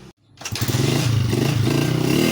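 A Honda TMX motorcycle engine is kicked over after a brief silence and catches, settling into a steady, close, loud idle thrum during a contact point test.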